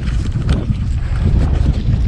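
A fishing boat trolling for trout churns through a tight loop, its engine a loud, steady low rumble mixed with buffeting wind and water noise right up close, with no talking.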